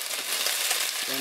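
Garlic sizzles in hot oil for a beef stir fry, a continuous bright crackling hiss that stays even and close, with a brief low clunk near the end.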